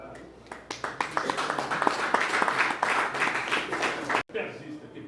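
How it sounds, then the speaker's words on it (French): Wedding guests applaud the couple at a civil marriage ceremony in a hall, a burst of mixed clapping rising and holding for several seconds, with voices over it, then a brief cut and softer clapping. "je invite l'assistance à les applaudir"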